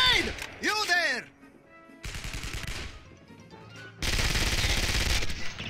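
Gunfire rattles in short bursts in the first-person shooter Contract J.A.C.K., loud sharp volleys separated by gaps, with a voice shouting near the start.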